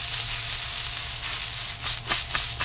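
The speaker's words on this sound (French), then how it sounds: "Je fais cuire mon oignon, enfin mon demi-oignon en lamelles, avec un peu d'eau pour le ramollir." A sliced half onion cooks with a little water in a pan, giving a steady close hiss and sizzle with a few brief crackling bursts near the end.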